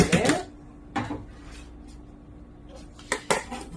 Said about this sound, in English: So I'm going to take a big scoop of butter, and we're going to put some butter in there.